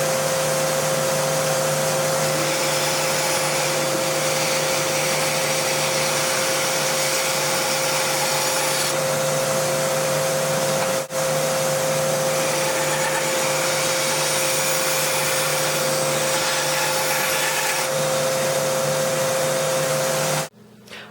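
A Rikon 10-inch bandsaw running and cutting 1/2-inch birch plywood, a loud continuous motor whine with a steady blade hum and faint changes in pitch as the wood feeds, cutting out abruptly at the end.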